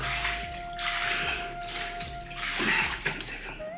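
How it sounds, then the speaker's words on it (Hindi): Rainwater being cleared out from inside a village temple makes repeated sloshing, splashing strokes at an uneven rhythm, close by and fairly soft, with faint background hum. "ये कुछ पानी अंदर बारिश का आ गया है, इसको मैं कुछ नहीं कर सकता, इसको निकाल सकता हूँ"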